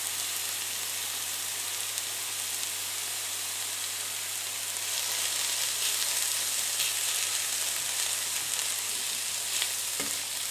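Diced ham and nearly translucent onion frying in oil for a Spanish potato and ham scramble, a continuous close sizzle with soft scraping as the mixture is stirred, steady and without voices.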